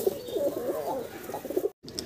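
Pigeons kept for sale coo softly in repeated low, throaty rolls, close and moderately loud, with a brief break near the end before another coo; no talking.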